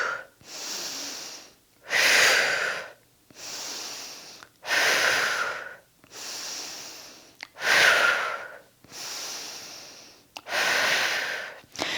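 Deep, rhythmic breathing during a core exercise: slow, loud, close-up inhales and exhales alternating in about six cycles, with short pauses between them.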